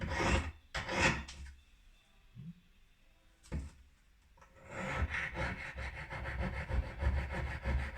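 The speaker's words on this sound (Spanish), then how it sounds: "Siempre hay que ir viendo el filo que la lima acompañe el bisel que ya tienen para tener la guía" A hand file rasps along the blade of a pair of garden scissors to sharpen it, in a few bursts of close, gritty scraping strokes separated by quiet gaps, then a longer stretch of repeated quick strokes.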